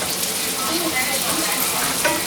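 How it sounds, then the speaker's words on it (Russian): Vermicelli sizzles and fries steadily in a pan while being toasted golden for Turkish-style pilaf, a continuous close crackle with occasional stirring. "сначала я обжариваю вермишель до золотистости сейчас"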